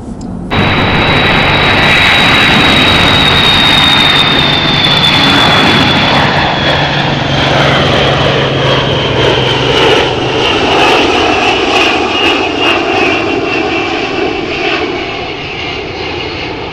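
A military aircraft near an Air Force base in Kenai, Alaska, roars loudly overhead, its jet whine steady then slowly falling as it passes and fades into the distance.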